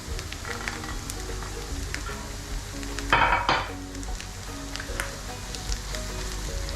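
Ground masala spices (coriander, chili, turmeric, garam masala and black pepper) fry in a hot pan for Kerala-style kappa biryani, a steady close sizzle with a louder burst of stirring midway.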